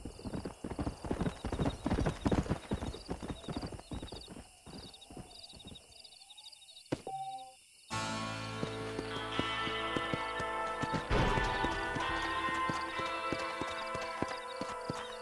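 Horse hooves clip-clop in a quick rhythm in Red Dead Redemption, then a horse whinnies, followed by game music and more hoofbeats.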